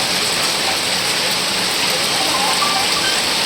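Heavy rain pours down steadily over a village, a dense, unbroken hiss that stays loud and even from start to finish.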